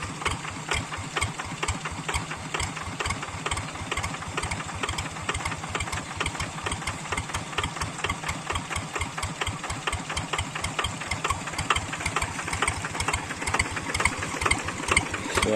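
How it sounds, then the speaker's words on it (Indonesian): A Kubota tractor engine idles with a fast, steady, chugging knock, close and consistent, and its rapid pulses continue without a break for the whole stretch. "Suara indah dari mesin Kubota."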